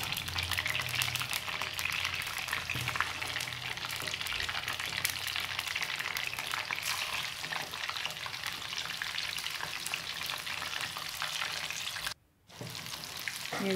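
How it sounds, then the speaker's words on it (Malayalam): Chicken pieces fry in hot oil in a pan, a steady, loud, dense sizzle with crackling bubbles that runs almost unbroken and drops out briefly near the end. "എണ്ണ നന്നായി ചൂടായതിന് ശേഷം ഫ്രൈ ആക്കിയെടുക്കാം."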